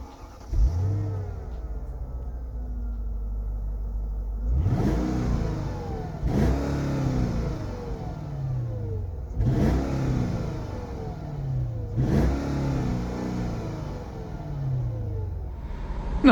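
A 2004 Mercedes E500 V8 idles, then revs sharply in four or five strong blips that rise and fall back to a steady idle between them, heard close and loud with no talking.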